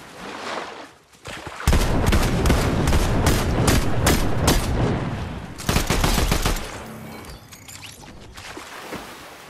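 Rapid bursts of gunfire from a Fortnite match, loud and dense, with repeated shots rattling over several seconds amid a busy firefight, easing toward the end.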